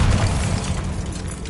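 A Bombarda spell explodes in Hogwarts Legacy, a brief loud boom with a crackling, rumbling tail that fades over about a second.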